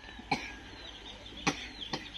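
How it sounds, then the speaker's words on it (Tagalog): A person gives three separate short, sharp coughs spaced about a second apart against quiet room background. "Giubo na."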